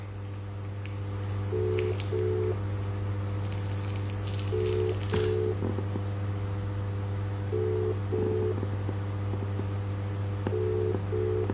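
A telephone number is dialed, heard as short paired touch-tone beeps in three or four separate bursts spaced a few seconds apart over a constant low hum.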